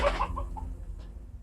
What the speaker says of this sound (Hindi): मुर्गियाँ रखी हुई हैं।